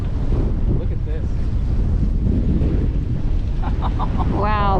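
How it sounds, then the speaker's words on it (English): Ocean waves break and wash through on the sheltered side of the shore at Key West, under constant loud wind buffeting the microphone, with a brief whistling or squeaking sound near the end. "Breaking waves going through, and that's on the sheltered side."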